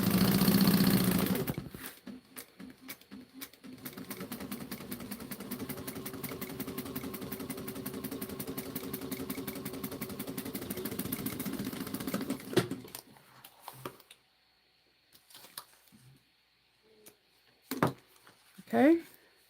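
A sewing machine top stitches along a fabric edge and back stitches, giving a steady rapid mechanical whir for about ten seconds that then stops, followed by near silence with a few faint handling clicks.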